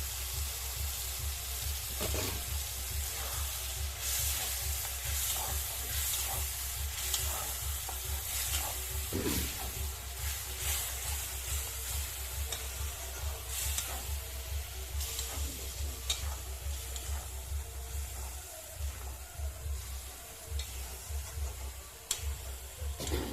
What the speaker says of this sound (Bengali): সরষে বাটাটা দিয়ে নাড়াচাড়া করে নিলাম